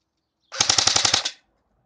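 Airsoft Desert Eagle pistol firing in full-auto mode, a rapid burst of about nine sharp cracks in under a second, close and loud, then silence.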